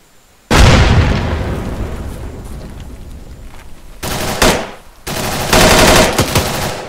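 A grenade explosion in a Vietnam-era MAC-V SOG video game mission, a sudden loud blast that rumbles and decays, followed by sharp bursts of close automatic gunfire.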